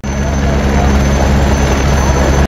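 Helicopter at the Panchtarni helipad on the Amarnath Yatra route in the mountains, its engine and rotors roaring loud and steady nearby with a constant high whine, cutting off abruptly at the end.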